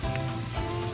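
Food sizzles on a Blackstone griddle during a breakfast of French toast and bacon, a steady close hiss of frying that lasts the whole moment with no one speaking.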